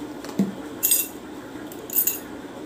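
A spoon and bowl are handled close by, giving a few sharp metallic clinks and taps spaced about a second apart, with no talk.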